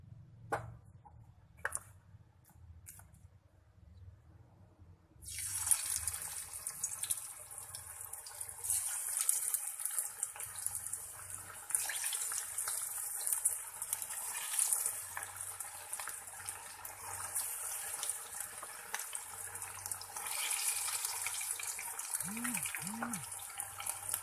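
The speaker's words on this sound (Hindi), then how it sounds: "हम अब इस अपना चिकन फ्राई करते हैं।" Chicken pieces go into hot oil for a quick chicken fry, and after a quiet start a steady hiss of frying rises suddenly and continues at moderate loudness over a low background hum.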